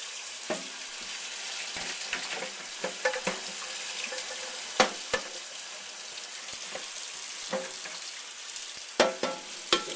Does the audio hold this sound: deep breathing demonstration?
no